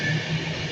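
A train rolls through Nuneaton station with a steady rumble of wheels on rail and a faint high tonal whine above it, sustained and fairly loud for a brief moment, with no voices.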